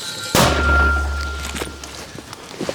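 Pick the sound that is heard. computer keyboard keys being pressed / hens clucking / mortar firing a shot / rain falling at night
mortar firing a shot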